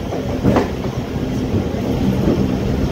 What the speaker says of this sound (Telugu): మన ట్రైన్ అయితే గుంటూరు రైల్వే స్టేషన్ లోపలికి అయితే ఎంటర్ అయిపోయింది